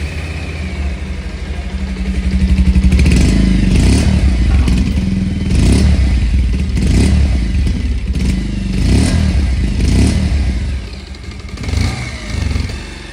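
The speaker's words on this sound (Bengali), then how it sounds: "এটা হলো 150 এর সাউন্ড" Nearby, a Bajaj Pulsar 150 motorcycle's exhaust putters at idle, then a handful of blips rise and fall over the steady engine beat, with some light rattling mixed in.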